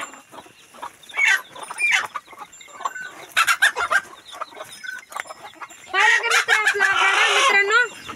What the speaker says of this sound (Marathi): कोंबड्या बघा कशा झोपडीवर अंडे द्या बसल्यात